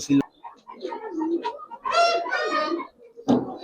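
A blue-eyed Jabra Pangkhi pigeon coos in short, throaty rolls, close and fairly loud, mixed with someone talking and brief handling bumps at the start and end.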